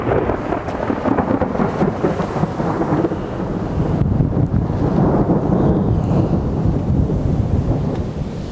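Thunder from a lightning storm over Miramichi rolls on as a loud, continuous low rumble, swelling midway and mixed with rain and some wind buffeting the microphone.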